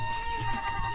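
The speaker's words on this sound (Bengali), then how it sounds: "এদিকে দেখুন ছাগল বাঁধা।" A short, close goat bleat, a single wavering nasal cry over a steady background hum.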